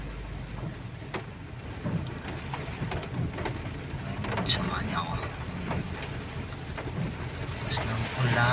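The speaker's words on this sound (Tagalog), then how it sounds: "Lakas ng ulan." Heavy rain falls on Quintin Paredes Street in Binondo, Manila's Chinatown, near Binondo Church in traffic, as a constant broadband wash of noise. Someone talks over it, with occasional louder splashes and bumps.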